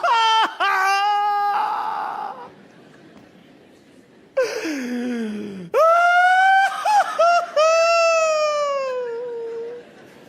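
A human voice imitates loud, anguished wailing and shrieking cries of grief echoing through a palace, in several long, rising and falling drawn-out bursts separated by short gasps.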